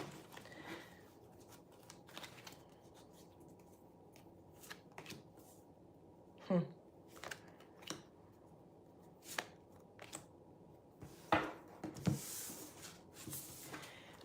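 Tarot cards are shuffled by hand, giving quiet, intermittent riffling snaps and soft slides spread over a near-silent room, with a few sharper clicks.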